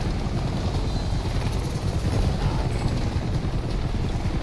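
A helicopter in the video game Army of Two gives off a loud, constant rotor roar and thump that fills the whole stretch without pause and with no voices over it.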